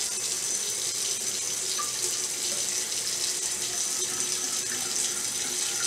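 Tap water runs steadily into a container for a drink infused with watermelon and cucumber, a continuous close, hissing splash with no talking.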